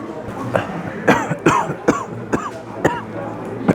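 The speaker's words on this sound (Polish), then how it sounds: "mam kaszel straszny, bo jestem świeżo po zapaleniu zatok" A person recovering from a sinus infection coughs repeatedly in short harsh bursts, several in a row spaced about half a second apart, close and loud.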